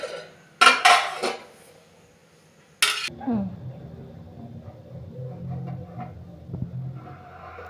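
A couple of clanks of a metal spoon against a pot of country chicken rasam, then softer scraping and stirring sounds with faint background noise.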